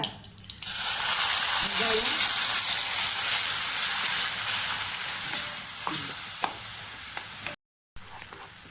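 A ground onion, tomato and ginger paste sautés in hot oil with curry leaves for a soya chunk curry, starting with a loud burst of sizzling that holds steady and slowly eases, with occasional stirring taps and a brief cut near the end.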